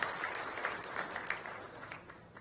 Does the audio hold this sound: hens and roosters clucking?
no